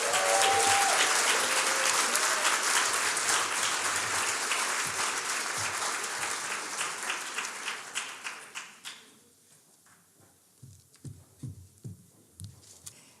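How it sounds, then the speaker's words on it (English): A crowd at an International Women's Day celebration applauds steadily, then the clapping thins and fades into a few scattered claps near the end. "Let's give her a round of applause."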